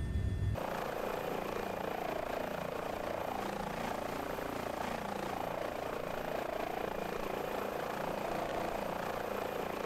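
An H145 helicopter in Microsoft Flight Simulator drones steadily over foothills, a dense continuous rotor and turbine roar heard from inside or close by, unbroken for the whole stretch.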